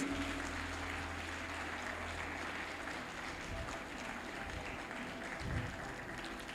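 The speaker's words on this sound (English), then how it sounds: "Please continue to clap until he gets back to his seat." An audience at a live personal development workshop applauds continuously, dense steady clapping filling the hall at moderate volume for several seconds.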